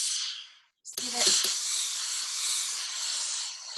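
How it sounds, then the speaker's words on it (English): Garment steamer hissing steam onto a gown, a brief opening burst, a short gap, then a steady close, broad hiss that runs unbroken to the end. "Just give it good steam,"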